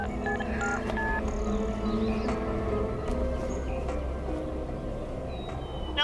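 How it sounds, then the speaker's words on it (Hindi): Short electronic tones beep one after another as a phone number is dialed, over a low background hum. "फोन करती हूँ।"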